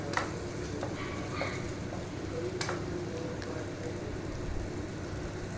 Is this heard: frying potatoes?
yes